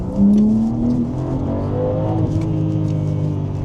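A BMW M4 G82 engine revs up close with exhaust valves closed, rising briefly, then settling into a steady droning hum with slight pitch changes.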